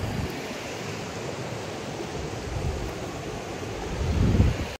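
A waterfall roars as a steady, broad wash of rushing water on a hillside path. It swells slightly louder toward the end, with no voices.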